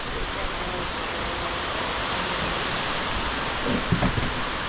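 Heavy rain suddenly pours down at an outdoor senior birthday dance, a dense, even roar of water filling the scene, with faint voices and a brief clatter near the end.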